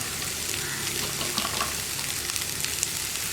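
Cut green beans and lightly browned onions sizzle and crackle steadily in a pan, a continuous close frying hiss with small pops and stirring scrapes, no voices.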